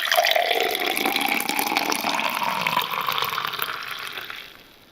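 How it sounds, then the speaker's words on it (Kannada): Milk that has cooled after boiling is poured into a glass, a close, continuous liquid splashing and gurgling that gradually thins and fades out at the end. "ಇದು ಸ್ವಲ್ಪ ತಣ್ಣಗಾದ್ಮೇಲೆ ಒಂದು ಗ್ಲಾಸ್ಗೆ ಹಾಕ್ಕೊಳ್ಳೋಣ."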